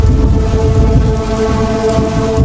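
Heavy rain pours steadily through a thunderstorm at night, with a dense, loud wash and low rumbling underneath.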